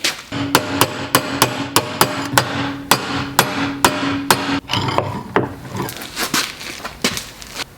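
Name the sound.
hammering metal headlight guard around a vise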